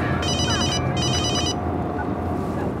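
A mobile phone ringing loudly with a repeated electronic telephone-bell ringtone, two bursts of trilling rings with a short gap, close and alone.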